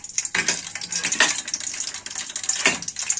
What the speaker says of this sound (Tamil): இப்போ எண்ணெய் சூடாயிட்டு இப்போ பட்டை, ஏலக்காய், கிராம்பு போடலாம்